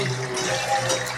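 Water is tipped out of a washing basin onto the floor in a brief pour and splash, close and fairly loud, with no voices.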